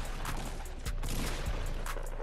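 Shotgun fire from the video game Fortnite, several loud sharp blasts in quick irregular succession over a dense, busy game soundscape, with no speech.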